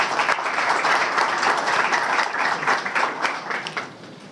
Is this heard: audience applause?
yes